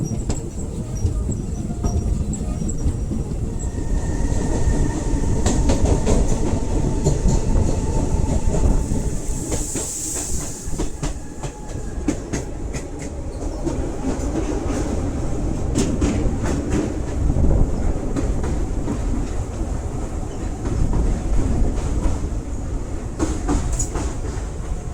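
The Latur–Mumbai Superfast Express (22108) rumbles along the rails in a continuous loud onboard roar, with rhythmic clickety-clack and brief metallic squeals over the wheels.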